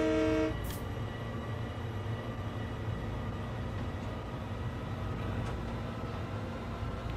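Simulated M7 electric multiple-unit train on the Long Island Rail Road in Train Sim World 2, a steady rumbling run with a brief horn toot at the start, then continuous even motor and rail drone.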